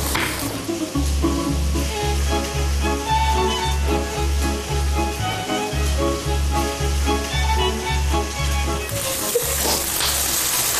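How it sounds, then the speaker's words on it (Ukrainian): Meat for carpaccio sizzles in a hot frying pan, pressed down by hand, under a steady rhythmic music track, the crackling hiss continuous and close throughout. "Положимо на сковорідку"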